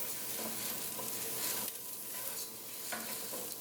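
Onion, ginger and spices frying in hot oil while being stirred, a close, steady sizzle with scraping stir strokes through the pan.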